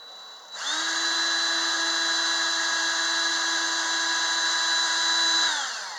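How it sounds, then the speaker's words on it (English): A power drill drilling into the metal of a 1948 Ford wiper transmission whines steadily at a high, even pitch for several seconds, starting abruptly and winding down at the end, loud and close with no talking. "I'm going to drill it through this thick part on this one"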